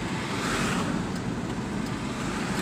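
Dense road traffic in Johor Bahru, a steady broadband roar of many cars with no breaks, continuous and fairly loud throughout.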